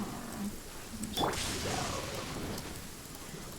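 Steady rain falls in a video game, a continuous hiss of drops on surfaces at moderate level, with faint muffled voice underneath.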